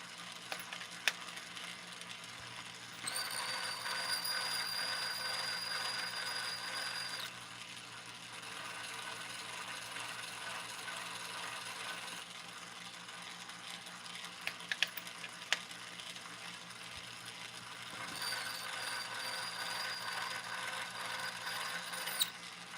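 Brass cartridge cases trimmed by hand for reloading, a close, sustained grinding and ratcheting rasp in two long stretches separated by a quieter pause, with small metallic clicks and no speech.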